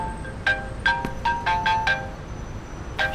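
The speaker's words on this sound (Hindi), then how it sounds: "या अल्लाह, नाज़ली का फोन है।" A mobile phone rings with a series of short melodic tone bursts in an uneven pattern, moderately loud over a quiet room background, with no talking.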